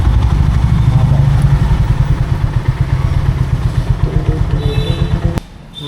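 A motorcycle idles loudly up close in a rapid, throbbing chug while being parked by a room, then the engine cuts out near the end, leaving a quieter background.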